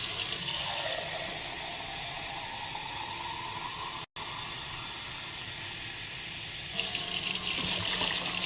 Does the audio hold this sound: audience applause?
no